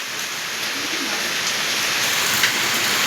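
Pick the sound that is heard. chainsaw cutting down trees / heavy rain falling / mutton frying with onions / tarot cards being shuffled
heavy rain falling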